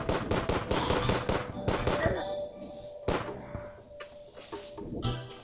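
Minishark gun firing in Terraria player-versus-player combat, a rapid burst of sharp repeated shots up front that thins into scattered hits and thuds, with a voice talking over parts of it.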